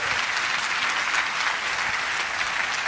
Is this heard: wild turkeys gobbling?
no